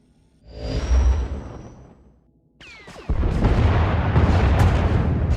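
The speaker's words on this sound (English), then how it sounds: "Enemy is firing. Turbo lasers, missiles, and what looks like transport pods." An enemy Thranta-class warship firing turbolasers and missiles in Star Wars: The Old Republic. A rising whooshing roar fades out, then a sharp burst launches into a sustained, loud barrage of booming shots and rumbling blasts.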